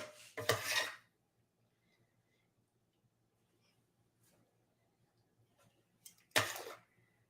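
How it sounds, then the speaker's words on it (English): Tongs clatter against a bowl while olive and tuna pasta is moved from the pan, two loud bursts of metal scraping and clinking separated by a quiet stretch with only faint small knocks. "we're just going to use our little tongs here to get this into our bowl"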